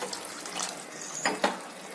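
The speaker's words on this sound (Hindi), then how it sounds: "और आधी गिलास पानी डालेंगे।" Half a glass of water is poured into green chilli chicken cooking in a pot, giving a soft running splash with two brief louder gushes near the end.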